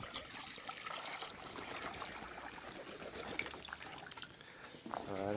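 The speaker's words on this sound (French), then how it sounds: "un petit peu d'eau." Water trickles and splashes steadily as it is poured into a chick enclosure inside an aviary, a close, continuous dribble with no talking.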